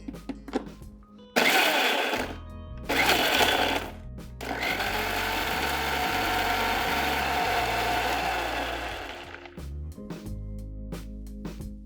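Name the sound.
blender grinding onion, lemongrass, garlic and galangal into paste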